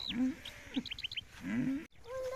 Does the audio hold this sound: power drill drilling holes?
no